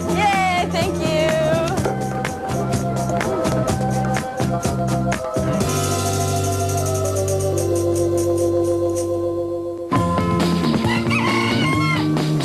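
Chickens cluck and a rooster crows loudly up close in a busy barnyard mix, with dense overlapping calls and a faint voice underneath.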